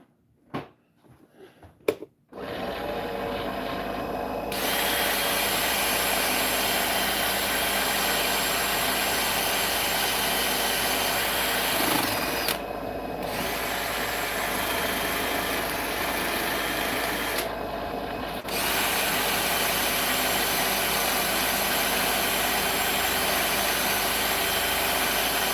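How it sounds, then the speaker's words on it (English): A power sander works on wood, running as a steady, loud, close buzzing drone for most of the time, with two short pauses where it eases off, after a few faint knocks at the start. "Now we're going to sand her up."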